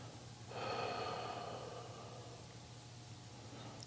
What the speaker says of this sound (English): Take a couple centering breaths.